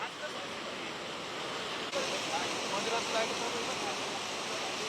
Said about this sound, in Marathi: गंगापूर धरणातून 6340 क्युसेक वेगाने पाण्याचा विसर्ग होतोय